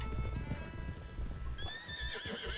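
A horse galloping in the Red Dead Redemption 2 game, steady close hoofbeats under a continuous rumble, with a whinny rising near the end.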